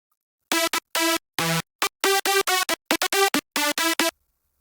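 A clean, bright synthesizer lead plays a choppy staccato melody of short notes with gaps between them, solo and upfront.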